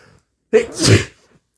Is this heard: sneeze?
yes